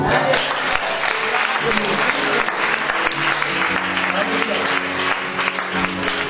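A church congregation at a Christian conference applauds, continuous dense clapping from many hands throughout, with voices calling out and cheering mixed into the crowd sound.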